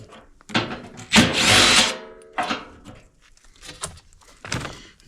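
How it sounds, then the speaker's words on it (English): A wrench fitted with a 7/16 socket backs bolts out of a heating and cooling unit that has a no-airflow fault, giving several separate whirring bursts with short pauses between them, close and fairly loud. "Back these bolts out of here."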